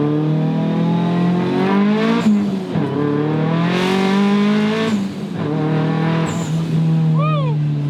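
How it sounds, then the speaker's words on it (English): A Nissan 240SX engine revs hard and climbs through the gears, loud and close with strong rising harmonics, a brief dip between shifts, and faint tire chirps near the end. "power kicks in almost instantly in first and second gear, and the car feels so solid"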